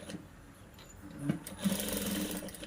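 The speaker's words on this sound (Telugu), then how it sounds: "దానికోసం కూడా కొంచెం మెల్లగా కుడుతున్నా అంతే" A sewing machine slowly stitching a blouse neck, a soft steady mechanical whirr with small clicks, close and moderately quiet, with no talk.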